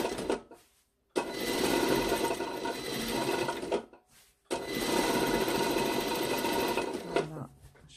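A sewing machine runs decorative topstitching on a sewn top in two long, loud, close runs of rapid needle clatter, separated by a brief pause.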